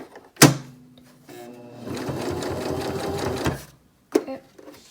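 A domestic sewing machine stitches a fabric face mask in a steady whirring burst of about two seconds, framed by sharp thunks as the presser foot is lifted and the fabric turned, with no talk.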